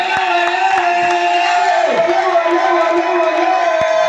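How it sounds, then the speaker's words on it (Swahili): A church congregation cheers, shouts and claps in praise during a worship service, a dense, continuous roar of voices that fills the room and stays loud throughout. "Weka makofi kwa Bwana. Piga hata yowe."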